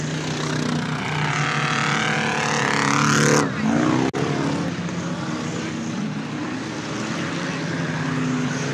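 Race cars roar past on a muddy dirt oval during a Triple B 100 race, a loud engine pass sweeping by close before settling into a steady rumble of the field.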